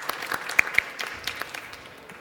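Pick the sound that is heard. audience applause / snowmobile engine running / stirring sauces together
audience applause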